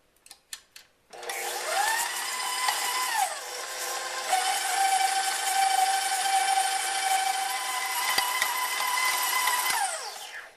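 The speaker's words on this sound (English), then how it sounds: "putting my butter in the bowl of my stand mixer along with the sugar. And then I'm just going to cream this together until it's light and fluffy" A stand mixer creams butter and sugar, starting after a few clicks, then whirring loudly and steadily with a rising-then-settled motor whine for about nine seconds before winding down, close and alone.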